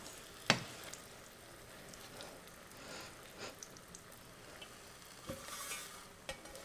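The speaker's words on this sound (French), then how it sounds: "je viens la verser donc dans ma poêle chaude" Omelette egg mixture spread in a hot frying pan gives a soft, steady sizzle. A sharp clink sounds near the start, and faint scraping follows later.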